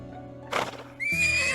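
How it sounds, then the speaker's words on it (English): A horse in an animated game scene gives a short, bright, close whinny after a quick burst of hoof clatter, with a low tonal backdrop underneath. "Whinny."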